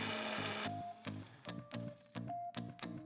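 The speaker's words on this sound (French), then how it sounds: "percez à petite vitesse à l'aide d'un trépan diamant spécial carrelage" Diamond hole saw boring through a ceramic wall tile at low speed, a series of short grinding bursts, each a second or less, broken by brief pauses and heard alone at moderate level.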